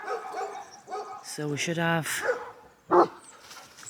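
Dogs bark and yip on a farm in spring in Portugal, a short burst of harmonic barks in the middle and another sharp bark a moment later, close by, mixed with someone speaking.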